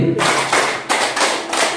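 A group claps five times in a counted clapping game, each sharp, fairly loud burst evenly spaced in a quick, steady rhythm.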